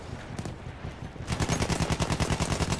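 Gunfire in a shooter video game, a few scattered shots followed by a loud sustained machine-gun burst of rapid evenly spaced rounds, close and prominent.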